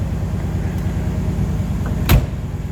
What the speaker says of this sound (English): I'm going to shut these doors, show you that light will go off.